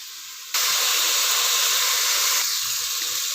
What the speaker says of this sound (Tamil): ஒரு 2 நிமிஷம் வந்து பட்டாணி நல்லா வதங்கணும்.